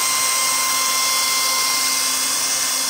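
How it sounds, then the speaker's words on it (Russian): Heimerdinger cordless drill spinning a homemade mixer paddle in a new can of paint at low speed, giving a steady, continuous high-pitched electric motor whine with no pauses. "Берем шуруповерт Heimerdinger, и вот такую вот мешалку я сделал."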